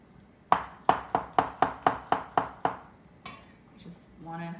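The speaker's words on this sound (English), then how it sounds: "Chop these all up" A knife chops mushrooms on a board with eight evenly spaced, crisp thuds. Softer kitchen clatter and a voice follow.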